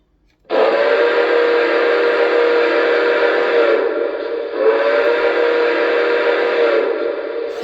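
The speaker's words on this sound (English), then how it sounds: "the whistle on this model is quite possibly one of my all-time favorites from anything Lionel has" Lionel NYC Commodore Vanderbilt streamlined model train whistle blowing loud and close, a sustained chord in three long blasts with brief dips between, with no talk over it.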